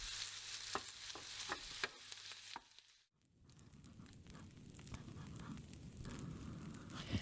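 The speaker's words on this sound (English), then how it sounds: "The chopping and stirring continue in simmering silence." Kitchen sounds of food sizzling in a pan with scraping stirs and sharp knocks, a brief near-silent pause midway, then steady frying and stirring.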